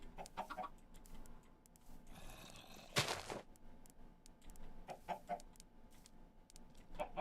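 Faint, short clucks from a Minecraft chicken repeat every second or so over a quiet game background, broken by one sharp, loud burst of noise partway through.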